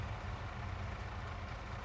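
An old Valtra tractor engine in Farming Simulator 22 runs at a steady, even idle, giving a continuous low rumble throughout with no talking over it.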